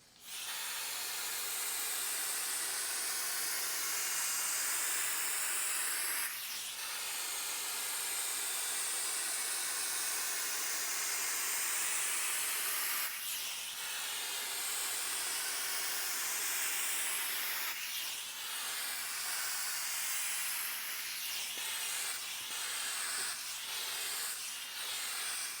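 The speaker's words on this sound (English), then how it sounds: "We use the vacuum steamer on." A Neakasa Magic 1 handheld vacuum garment steamer hisses continuously as it steams a shirt, a steady soft rush of steam and suction broken by periodic brief puffs and bursts throughout.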